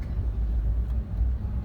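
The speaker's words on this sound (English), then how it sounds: "Traffic." Low, steady rumble of slow-moving night traffic on the Las Vegas Strip near Flamingo and Caesars, heard from inside a car as a continuous engine and road drone with no voices.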